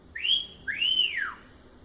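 Two rising-and-falling catcall whistles, a short one and then a longer sweeping wolf whistle, loud and clear against a quiet background with no talking.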